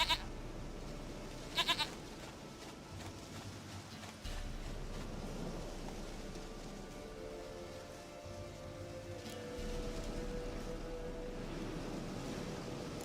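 Goat bleating in The Witcher 3, a couple of short bleats near the start over a low ambient wash of surf-like background and game music, no speech heard.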